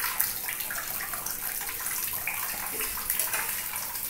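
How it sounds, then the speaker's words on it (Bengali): Cooking oil poured into a pan on a gas stove while making homemade mini rolls, a steady liquid pouring and sizzling hiss, close and continuous, with no talking. "এবার আমি একটু তেল দিয়ে নিচ্ছি।"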